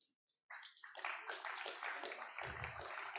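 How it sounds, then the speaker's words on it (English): Audience applause for partners at the ATARC 2023 Federal IT Modernization Summit: clapping starts abruptly after a brief silence and continues as a steady, faint crowd patter. "Round of applause to our partners."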